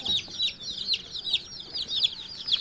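Brooded layer and native chicks chirping in rapid, repeated high peeps, close and fairly loud, with a low background murmur of chickens and no talk.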